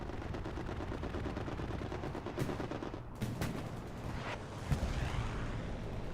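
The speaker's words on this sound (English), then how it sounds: "Strafe run coming in from Commander Icon." A strafing run in the World War II shooter Hell Let Loose, heard as dense continuous rumbling machine-gun fire over the Carentan town center, loud and sustained with a few sharper cracks and impacts, no talking.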